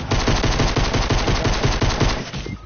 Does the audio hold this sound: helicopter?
no